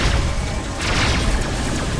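Missile explosions in a space combat video game, a dense continuous barrage of booming blasts and rumbling crashes packed together over a couple of seconds, loud and without talk.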